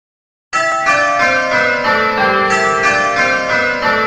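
Simulated church bells ringing call changes in the Abel bell-ringing program, a full peal of bright, overlapping metallic strikes starting abruptly and continuing steadily with resonant hum, loud and close, no voices.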